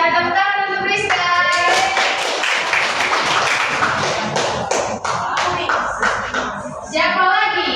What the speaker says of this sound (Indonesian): Tepuk tangan untuk Friska.